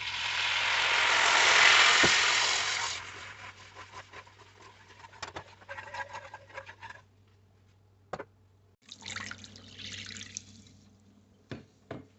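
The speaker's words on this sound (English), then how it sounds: "Just adding a cup of water just to add a little bit more liquid to the broth" A cup of water pours into a pot of broth in a home kitchen, a loud splashing rush for the first few seconds, then fading into scattered drips, clinks and small knocks.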